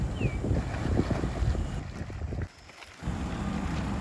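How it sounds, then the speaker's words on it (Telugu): Strong wind roars and buffets against the microphone at a poultry shed, loud and rumbling, easing briefly before gusting back up. "గాలి కూడా విపరీతంగా వస్తుంది"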